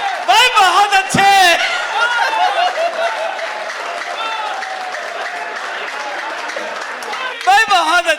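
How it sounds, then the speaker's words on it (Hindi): Loud audience applause at a Hindi comic poetry gathering, with claps bursting at the start and end while a voice talks over a quieter stretch of clapping in between. "तालियां कम हैं, पूरा सदन दोनों हाथ उठा करके एक बार बजाए"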